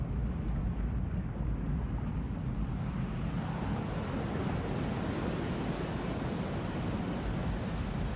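Ocean waves open a song as a steady, broad wash of surf, swelling slowly and continuing without break, with no voices.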